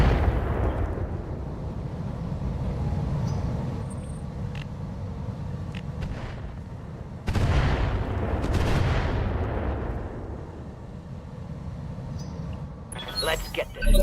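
Heavy mech weapons fire in the RogueTech battle game, a continuous roar of booming blasts with a louder burst around the midpoint and sharp crackling near the end.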